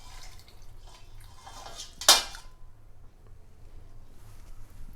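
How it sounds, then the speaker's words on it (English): Water drips from a lifted pot lid into a kadai of Maharashtrian mutton sukka, giving one sharp splash and clink against faint kitchen clatter and a steady low hum. "we are also going to drip the water inside the kadai"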